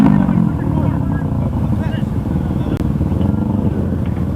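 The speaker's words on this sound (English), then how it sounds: "don't blow your engine." A motorcycle engine revs loudly and steadily nearby in road traffic, with a continuous low rumble and a faint background of voices.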